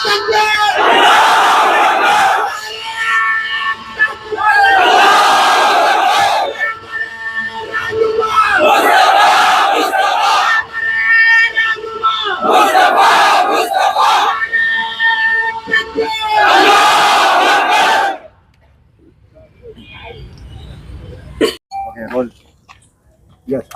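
A crowd at a Muslim representative council gathering in Aurangabad chants the Nara-e-Takbir slogan, loud repeated call-and-response bursts of massed shouting in regular waves, then a sudden drop to a quiet room with faint scattered noises.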